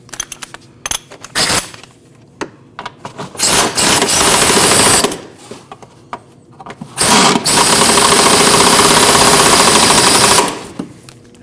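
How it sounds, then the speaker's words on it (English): Impact gun snugging the rear shock bolts on a 2014-2023 Jeep Cherokee: loud, close rattling bursts, short taps at first, then two longer hammering runs of several seconds each, with quiet gaps between. "Give those a snug with the gun."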